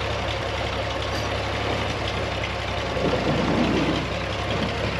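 A tractor engine idles and runs steadily while a grain unload auger is lined up during bin emptying, a continuous low rumble that swells slightly near the end with no talking.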